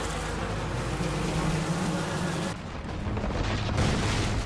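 Bugs buzzing in a Ben 10 cartoon episode, a loud continuous droning swarm hum with rumbling underneath, fading briefly before swelling again.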